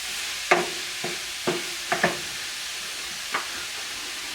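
Shallots and garlic are stirred in a pan while cooking duxelles, with a soft steady sizzle under a handful of distinct scraping strokes from the spoon, close and fairly quiet.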